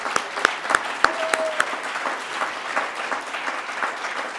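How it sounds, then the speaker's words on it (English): An audience at the Toronto Book Awards ceremony at the Appel Salon applauds the finalists, steady clapping with a few sharp, close claps early on and a faint voice underneath. "I think they deserve all a round of applause."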